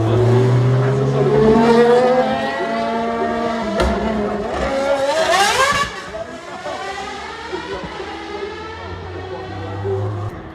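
Racing car climbing the hill at Goodwood, engine revving and rising in pitch as it accelerates past, with gear changes and a swelling, fading drone, heard under a commentator's voice.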